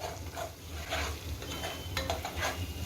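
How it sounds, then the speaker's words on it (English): Steady sizzling and frying of red chili powder masala in an oiled pan for dal makhani, with occasional light scraping clinks of a spoon against the pan, close and continuous. "Now this I'm going to cook till it starts releasing oil on its own."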